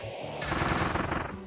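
Gunfire from the video game Kirby and the Forgotten Land comes as a rapid burst of shots lasting about a second, at moderate volume with no talk over it.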